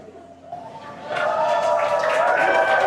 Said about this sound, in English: And obviously some happy cheers as the crowd is growing outside of Mission Control Hawthorne